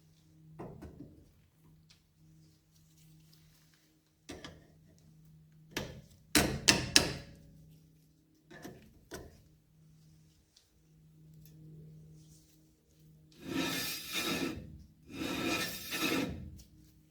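Diagonal cutters grip and work cotter pins out of a car hub on a 1951 Studebaker Commander, giving a few sharp metallic clicks and snips followed by longer scraping, rasping bursts, close and fairly quiet.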